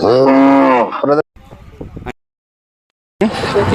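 A Khillar bull at a cattle show lets out a loud, deep moo close by, then a shorter rough sound, a silent pause, and a second bellow starts.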